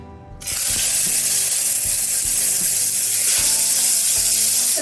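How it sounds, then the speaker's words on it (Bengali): Chicken pieces hitting hot oil for a light shallow fry in a pressure cooker, a loud sizzle bursting in after a brief quiet start, then a steady hiss with faint scraping knocks underneath. "তেলটা গরম হয়ে গেছে, হালকা একটু চিকেনটা শ্যালো ফ্রাই করে তুলে নেব।"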